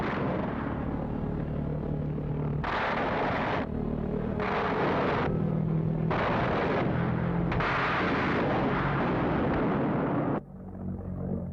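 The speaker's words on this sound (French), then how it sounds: "S'approchant de leur proie rapide, ils ouvraient le feu le plus près possible." Fighter plane guns fire at a V1 flying bomb in 1944, long rattling bursts of rapid gunfire repeating in several blocks over a steady, heavy engine drone, close and loud.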